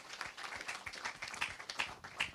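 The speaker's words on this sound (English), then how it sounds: "Let's give Annabelle a round of applause" Audience applause at an economics panel event on national unity and the mini budget, a dense steady patter of many clapping hands with small swells, moderately faint and with no talk over it.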